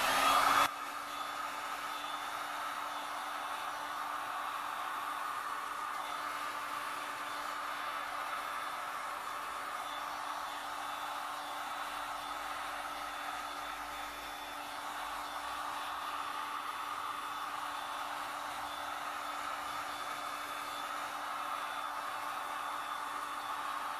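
A heat gun blows a steady, close broadband rush of hot air over resin art tinted with glitter and glam powder pigment, running unbroken for the whole stretch with no talking.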